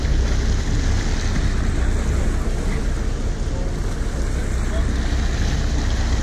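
A boat out on the open ocean off New York gives a constant loud rumble of engine and rushing water, with wind buffeting the microphone steadily and no break throughout.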